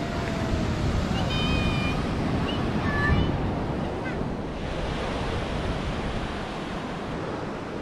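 Ocean surf rolls onto the beach at Tanah Lot, Bali, as a steady, close roar of breaking waves mixed with gusty wind noise on the microphone.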